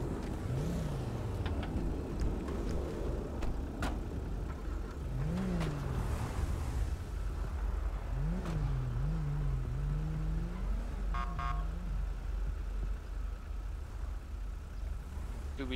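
A car in a GTA V roleplay drives along a road, its engine note rising and falling as it accelerates, steady and fairly faint, with no talk over it.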